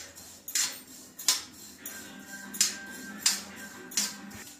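Sesame seeds roast in a kadhai for til gud laddu while a utensil scrapes and clinks against the metal pan, about seven sharp metallic strokes in an uneven rhythm, close and fairly quiet.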